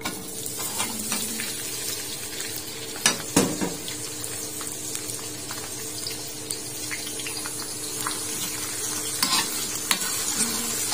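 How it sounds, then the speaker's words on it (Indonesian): Chopped ingredients for chicken with green chilies being stir-fried in a pan, a steady sizzle broken by a few sharp scraping stirs and clanks, with no voices. "Saya akan tumis semua yang tadi udah dipotong-potong ya."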